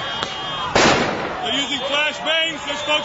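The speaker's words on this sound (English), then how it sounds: "They're firing rubber bullets." Police firing rubber bullets at an Oakland protest in 2012, a faint pop followed by one sharp loud report, then crowd voices and talking continue.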